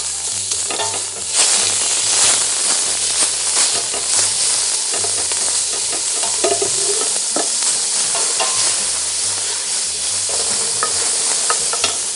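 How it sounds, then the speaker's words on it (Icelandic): Bacon fries in a hot pot, giving a loud, continuous close sizzle with repeated scraping clatters as it is stirred, and no one speaks. "Og ég byrja á því að steikja baconið."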